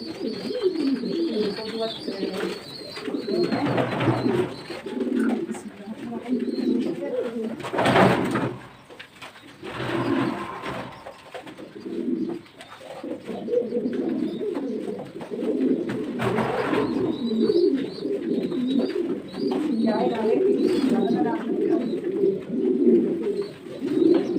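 Pigeons coo continuously in soft, repeated throaty rolls close by, with someone speaking over them throughout.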